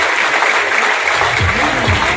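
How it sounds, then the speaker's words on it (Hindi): An audience at a business seminar in Nawabganj claps loudly together, a dense, steady wash of applause that fills the whole stretch without a break. "अपने लिए जोरदार तालियां बजाइए"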